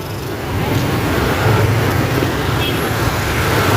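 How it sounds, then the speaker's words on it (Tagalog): Heavy road traffic in a Philippine city street: a steady, loud rumble of cars, buses and other vehicles close by, with a constant low engine drone and hiss throughout and no clear pauses. "Ganun kahaba yung traffic dito ngayon."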